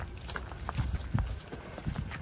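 Heavy hoofbeats of a huge PO cow walking out of its pen with a small handler, a few irregular thuds and clops close by with faint background noise.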